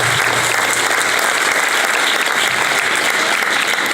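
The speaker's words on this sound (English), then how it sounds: "So please give another round of applause for all the Movement Building Award winners and all of you movement builders out there." A crowd at an awards event applauds the Movement Building Award winners, steady dense clapping that stays loud and even for the full stretch with no voices on top.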